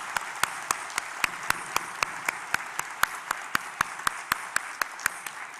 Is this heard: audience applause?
yes